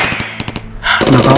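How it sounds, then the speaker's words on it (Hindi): Rapid bursts of gunfire come from all around in a murder-mystery game scene, a quick volley of sharp cracks that swells into a dense, loud barrage near the end. "गन शॉट्स बरसने लगे।"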